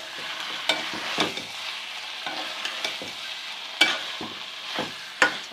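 Okra being stirred in a pan with salt and chopped green chillies, a steady soft sizzle with repeated scraping clinks from the spoon at an irregular rhythm, close by with no talk.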